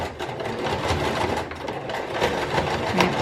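A sewing machine runs steadily and close while back stitching across a zipper pencil pouch, a continuous busy whir with no talking over it.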